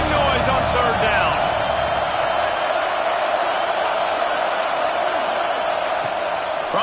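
Stadium crowd noise rising on third down in a college football video game, a steady, loud wash of roaring fans that persists without a break.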